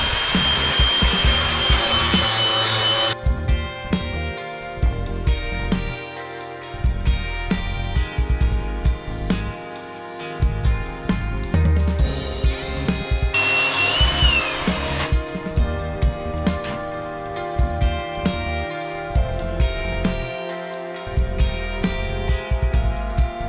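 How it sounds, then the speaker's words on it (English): An abrasive wheel grinds mill scale and rust off steel with a steady, loud whirring roar that runs almost the whole time, with brief pitch shifts as the wheel presses against the metal. "we're gonna go over and clean all this surface off with our abrasive wheel and remove all the mill scale and rust and everything"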